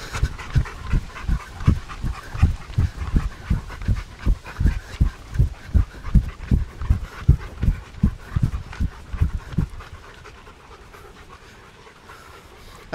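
An American Bully dog pants hard and fast at close range in a steady, rhythmic run of breaths that slows and fades near the end.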